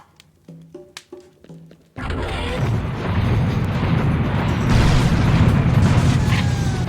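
A rocket launcher in Serious Sam fires, followed by a heavy booming explosion that rumbles on for several seconds, loud and close after a few short game sounds.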